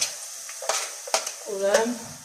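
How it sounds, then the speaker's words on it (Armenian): Chopped onion frying in a pan at home, with a few sharp spoon or spatula scrapes against the pan over a soft, steady sizzle. "հենց դրա համար ենք օգտագործելու սոխը, այդ իսկ պատճառով լցնում ենք տապակի մեջ"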